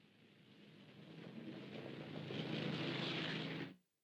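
A Convair B-36 bomber with six piston and four jet engines roars steadily, a broad droning rumble that swells over several seconds to a loud sustained peak before cutting off abruptly.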